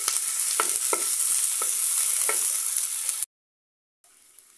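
White onion sautéing in olive oil for a beef stew, a loud even sizzle with a few spoon scrapes and stirs, cut off abruptly into silence before a quieter tail.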